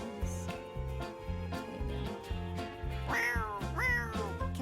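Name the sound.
kitten meowing in a video game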